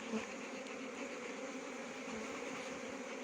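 Dense, steady buzzing of many queen bees in a queen bee bank, after smoke, fills the air, a continuous droning hum up close with no voices.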